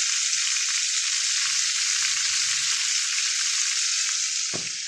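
Sardines fry in hot oil, a steady, fairly loud bright sizzle with faint low stirring bumps underneath and a single sharp knock near the end.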